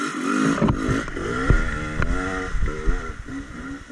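A brand-new motorcycle being broken in revs and rides nearby, its engine note rising and dropping in uneven bursts with some clatter, fairly loud and with no talk over it.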